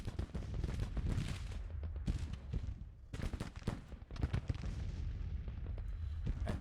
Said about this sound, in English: Right, they're firing.